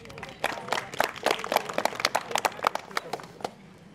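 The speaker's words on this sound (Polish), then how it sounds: "również brawa dla nich." An audience in a village hall claps at a local anniversary celebration, a few seconds of scattered, moderately loud handclaps with uneven rhythm, some voices faintly beneath.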